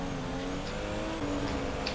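A fast motorcycle in GTA 5 roleplay on a city street, its engine a continuous loud buzzing drone that shifts slightly in pitch as it speeds along, with no talk over it.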